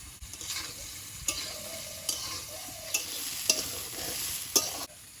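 Mixed vegetables sizzle in a hot pan and are stirred now and then with a spatula, giving a steady frying hiss broken by sharp scraping clicks at irregular intervals, close and without speech.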